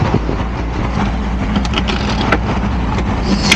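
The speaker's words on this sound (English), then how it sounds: "this is all the motorway traffic" Steady roar of motorway traffic passing close by, a dense continuous wash of car and truck engine and tyre noise with a few louder passing vehicles, heard near a racing venue after an accident on the motorway.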